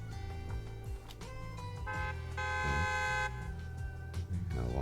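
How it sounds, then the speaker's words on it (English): Trucks bearing the Leaps and Bounds logo honking in Zenless Zone Zero, several loud sustained horn blasts over game music, echoing as the vehicles roll into an open area. "Loud honk echoes as several trucks with the Leaps and Bounds logo drive into the open area."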